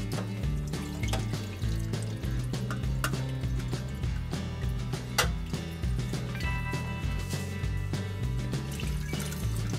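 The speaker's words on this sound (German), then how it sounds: "Noch etwas mit Wasser aufgegossen." Water is poured into a pot of sauce for a grilled leg of lamb, a soft liquid trickle and splash running for several seconds beneath louder background music.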